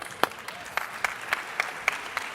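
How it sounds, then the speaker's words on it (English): Light, sparse clapping from a conference audience greeting a startup team on stage, a handful of distinct claps spaced out over a soft murmur, fairly distant. "A round of applause for Young Motion."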